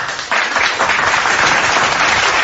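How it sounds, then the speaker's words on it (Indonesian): Dense, loud clapping bursts in after a brief quiet moment and continues steadily, sounding like a crowd applauding together. "Kita patut tepuk tangan."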